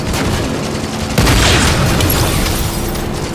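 A rocket blast in Halo booms sharply about a third of the way in, a single loud burst that rolls out over a busy backdrop of game noise.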